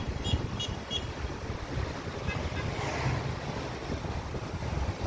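Strong wind blowing outdoors on a dark night, a steady loud rush with gusting buffeting against the microphone, continuous throughout with no voices.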